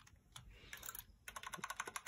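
Typing on a Red Dragon K530 Draconic keyboard with dustproof brown switches, a quick run of soft, evenly paced key clicks close by with no talking.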